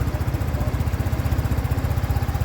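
A liquid-cooled Euro 5 Sym Jet X 125 scooter idles close by with a steady, fast-pulsing exhaust burble and no speech over it.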